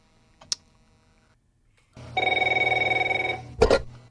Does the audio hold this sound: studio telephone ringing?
yes